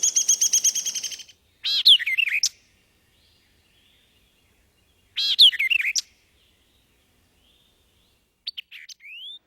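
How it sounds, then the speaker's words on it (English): Song of a white-eyed vireo in a Texas park wetland, heard as three separate bursts of quick, sharp chirping phrases with quiet gaps between them, clear and fairly close with no other sounds. "The song of the secretive white-eyed vireo is often heard"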